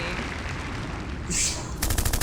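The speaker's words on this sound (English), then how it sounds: "Gunshot?" A gunshot sound effect played on a podcast, heard as a quick rattling burst of sharp repeated shots at the end of the clip after a steady background hiss and a brief high tone.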